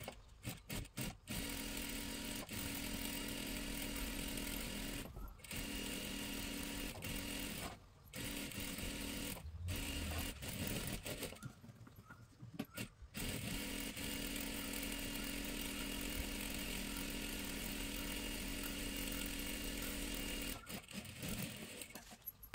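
A sewing machine runs a double line of stitching along a salwar seam, a steady mechanical whir in long stretches broken by several brief pauses.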